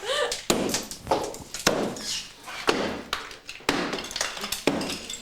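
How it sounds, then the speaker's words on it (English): Heavy blows from a big hammer breaking out a 1970s fireplace extension in a home, loud irregular thuds and cracks with crumbling debris, about a dozen strikes in quick succession with voices underneath. "knocking out 1970s fireplace extensions"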